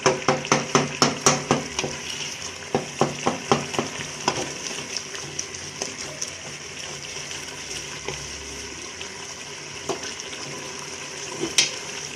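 Shalgam matar sabzi of turnips and peas sautéing in a pan, with a steady sizzle under rapid rhythmic scraping and pressing strokes of a spoon, dense at first and then sparser, close and fairly loud.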